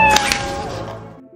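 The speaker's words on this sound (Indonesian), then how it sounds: "Tak lama ia malah dikejutkan seekor kucing warna abu-abu" A grey cat lets out a single drawn-out meow, loud and close, rising then fading away over about a second, with a faint tone lingering after it.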